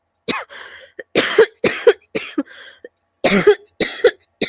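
A series of harsh, wet coughs in close succession, about seven or eight bursts in irregular clusters, loud and near.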